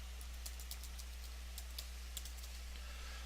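Computer keyboard typing as an error message is entered for a website login brute-force exercise in Kali Linux, with quick, light, irregular keystroke clicks in short bursts over a steady low electrical hum, no voices.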